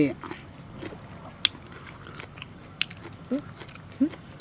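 Close, crisp crunching bites of a raw leafy vegetable, a few distinct crunches spaced through the moment, set against quiet outdoor room tone with no clear talk.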